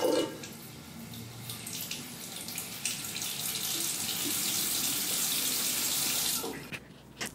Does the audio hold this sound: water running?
yes